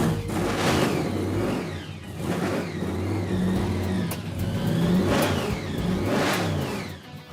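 A 1957 Chevy drag car engine fires and revs hard, loud and close, with repeated rising throttle bursts over a rough, throbbing idle and no talk.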